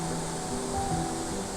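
A waterfall beside a picnic and seating area near a creek campsite in Yalova, Turkey, heard as a steady, broad rushing wash of falling water that stays constant and moderately loud throughout the short stretch, with no voices.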